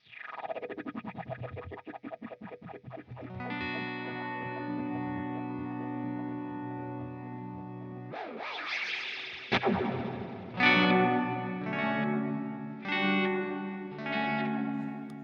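Guitar notes ring out through a delay and reverb pedal effect, repeating echoes trailing and smearing into a shimmering wash, with a few fresh strums cutting in.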